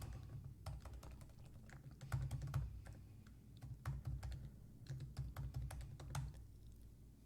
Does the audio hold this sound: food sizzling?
no